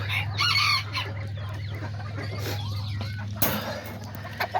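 Miniature chickens and roosters of the Azteca and Serama breeds cluck and crow close by in a small backyard flock, a steady low hum running beneath the bird calls.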